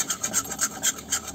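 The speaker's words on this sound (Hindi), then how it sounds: "आटे को लो फ्लेम पे भून लेंगे" Wheat flour, two spoonfuls, stirred and scraped in a pan over a low flame to roast it, giving a steady rhythmic rasping of the spoon against the pan, close up and alone, with no talking.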